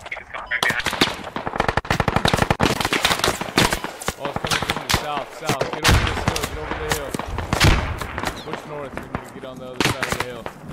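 Rapid automatic gunfire and scattered shots in the tactical shooter game Squad, during an insurgent defense match: dense, loud bursts crackling almost nonstop, with bursts near and far and squad voices talking over the firing.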